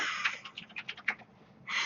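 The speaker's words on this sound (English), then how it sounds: "Your typing is just hilarious, by the way." Typing on a computer keyboard, with a quick run of clicking keystrokes in an uneven rhythm, close and moderately loud, ending in a brief rushing noise.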